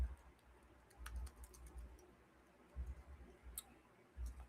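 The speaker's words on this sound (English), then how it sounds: "I'm going to type that in the chat." Quiet typing on a computer keyboard, scattered soft key clicks in short irregular bursts over low room rumble.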